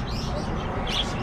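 Several small budgies chirping and tweeting at once in a pet shop, brief bright calls over a noisy indoor background.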